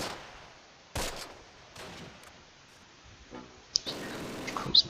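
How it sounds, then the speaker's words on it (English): MG42 machine gun fire in the WWII strategy game Close Combat: Last Stand Arnhem, heard as quiet, scattered bursts and sharp cracks against a low battle backdrop, with a louder cluster near the end. "MG42s are too strong."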